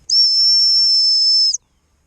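A gundog trainer's stop whistle sounds one loud, sustained, high-pitched blast of about a second and a half, cut off cleanly, during a retrieve with a dog named Clover, with silence before and after.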